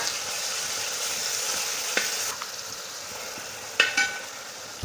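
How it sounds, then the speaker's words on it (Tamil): Ground masala frying in oil with a soft, continuous sizzle, as the spoon stirs it with a few light scrapes and taps, the loudest pair near the end. "ஆ மசாலாவை இப்போ சேர்த்து கொடுத்துக்கோங்க"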